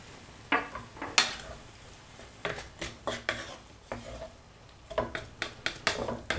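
A spoon stirs split peas and pork in a cooking pot, with a steady run of scraping and knocking strokes against the pot sounding close and moderately loud.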